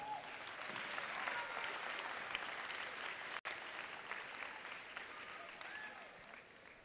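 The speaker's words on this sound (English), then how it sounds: "let's make sure we give all the parents in the room a great round of applause" Quiet, distant sounding applause from a high school event audience, a continuous patter of many hands that rolls on for several seconds with a brief dropout midway.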